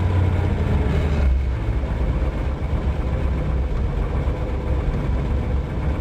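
A 1962 Ford Falcon engine idles steadily after a cold start, a loud, continuous low rumble with an even, unbroken drone and no talk.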